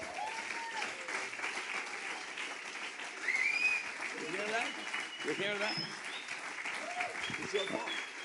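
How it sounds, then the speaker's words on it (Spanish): Congregation at a Sunday morning church service applauding to welcome a visiting pastor, a steady dense wash of clapping throughout with scattered voices and murmurs underneath. "vamos a recibirlo con un fuerte aplauso bien argentino al pastor Ron Bennett"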